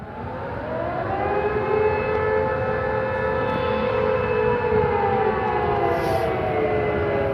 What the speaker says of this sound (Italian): Le sirene che lanciano l'allarme